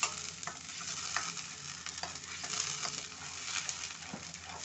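An onion gravy is stirred in a frying pan while it fries toward golden brown, with steady sizzling and scraping strokes of the spoon running through the whole stretch at a moderate, close level, and no talk.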